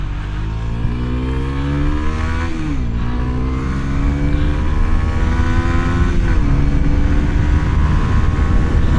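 A 2024 Kawasaki Z125 motorcycle accelerates hard through the gears, its engine whine rising in pitch, dipping at each shift and climbing again, loud and close under steady wind rush.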